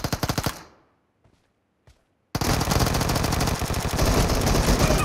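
Automatic gunfire in the battle-royale shooter PUBG: a few rapid bursts, a short pause with scattered faint shots, then a dense, loud, sustained stream of rapid fire.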